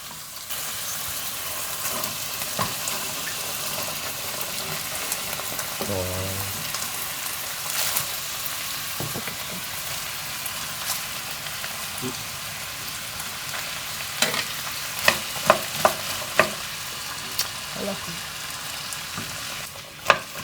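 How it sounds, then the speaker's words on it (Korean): Steady sizzling of meat stir-frying in a pan for curry, with occasional scraping and stirring clicks, fairly quiet and continuous throughout. "고기도 고기에도 기름 들어있으니까 이렇게 볶아 한번 볶아줘야지"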